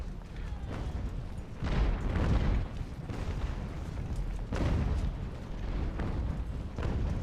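Mortars lob shells at a fort in Ultimate Admiral: Age of Sail, a steady roar of repeated booming bursts swelling in waves over rumbling battle noise, loud and continuous.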